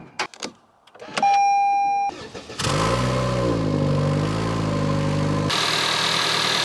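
A Toyota Camry engine starts after a few clicks and a short beep, then settles into a steady, close idle with a brief rev.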